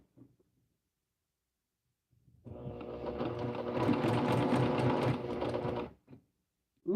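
A sewing machine runs one continuous burst of about three and a half seconds, stitching a long straight seam on placemats, fairly close and alone in an otherwise quiet room.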